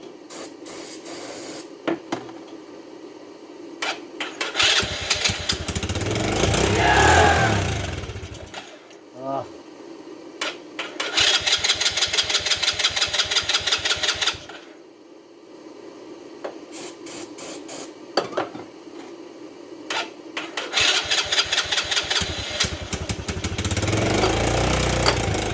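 A 125cc ATV engine cranks on its electric starter in several long bursts with pauses between, a whirring, grinding churn that never catches, with someone talking in the gaps.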